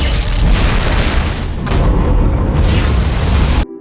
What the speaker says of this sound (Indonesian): bom tersebut meledak hingga menewaskan beberapa pasukan di sana